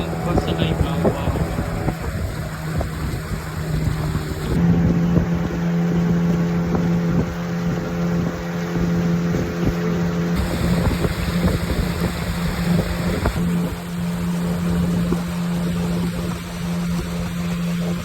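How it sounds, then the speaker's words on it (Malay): A motorboat engine drones steadily through a boat ride between stations, holding one even pitch throughout, with wind buffeting the microphone and water noise underneath. "Naik bot tu pergi pulang."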